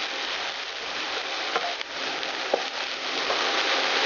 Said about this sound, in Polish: Dodajemy suchą papryczkę chili i przesmażamy jakieś 2-3 minuty.